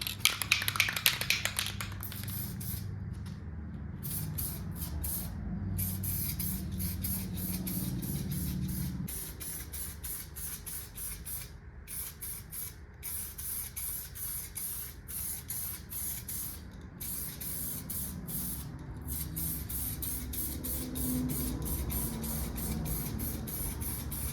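Long hissing bursts of spray paint onto a 1978 Ford short bed truck, repeated in quick pulses with short gaps, steady and close, running the whole stretch with no talking.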